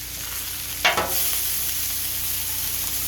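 Burgers fry in melting butter on a hot surface, a close, continuous sizzle with one brief scrape or clatter early on.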